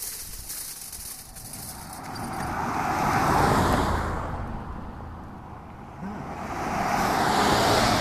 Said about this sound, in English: Every time I walk by Eugene Fury, there's a car going by.